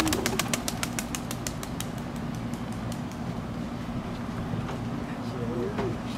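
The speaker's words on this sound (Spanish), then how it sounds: "Oye, aquí vamos a tirar otro pichoncito aquí, el León." A pigeon released by hand, a burst of rapid wing flaps in the first two seconds that fades away as the bird flies off, with people talking and outdoor background noise throughout.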